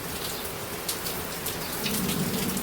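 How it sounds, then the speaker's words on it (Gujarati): Steady rain drums on tin roof sheets during a downpour, a dense continuous hiss with scattered louder drops and a low rumble building near the end, close and fairly loud. "વરસાદનો અવાજ આવતો હશે તમને."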